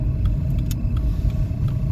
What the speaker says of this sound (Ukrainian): Машина на іноземній реєстрації